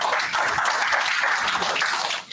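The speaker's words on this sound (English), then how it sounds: "Big round of applause" Applause from an audience at a business conference presentation in San Francisco, a steady wash of many hands clapping that stops abruptly just before the end.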